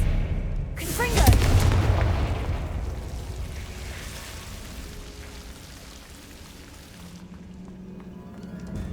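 Confringo fire-blast spell explosions in Hogwarts Legacy: a sharp, loud blast erupts early, then a crackling, rumbling wash slowly fades under a steady background hum.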